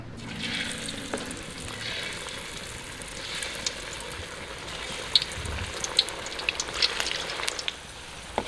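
King oyster mushrooms, coated and dropped into hot oil one piece at a time, deep-fry with a steady crackling sizzle. A few sharper pops rise near the end.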